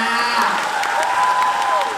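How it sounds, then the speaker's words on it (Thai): An audience applauds continuously in a dense, even wash of clapping with faint cheering and voices mixed in, steady and fairly loud throughout. "ทุกคนปรบมือให้ตัวเองหน่อยจ้า"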